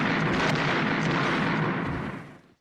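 A gunshot sound effect rings out as a guard fires on gang members: a dense, loud, booming blast with a rolling, sustained roar that fades out over about two seconds, with no voices over it.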